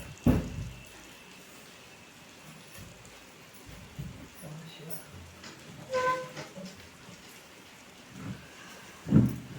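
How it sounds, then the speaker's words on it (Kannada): Rain falls outside during a power cut and is heard indoors near an opened window as a faint, steady patter broken by a few soft, louder knocks and rumbles. "ಮಳೆ ಬರಕತ್ತದ, ಕರೆಂಟ್ ಹೋಗ್ಯಾವ"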